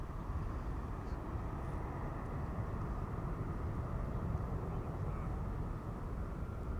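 A Delta Airlines Airbus A330neo departing Amsterdam Schiphol Airport, heard as a faint, steady, distant jet roar with no voices.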